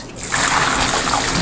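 Homemade soymilk pours in a loud, steady rush through a towel-lined strainer into a metal bowl, a continuous splashing stream with no talk.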